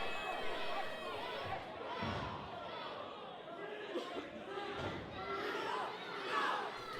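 An independent wrestling crowd cheers and chatters steadily in the arena, fairly faint and continuous with occasional louder swells, under a commentator's talk.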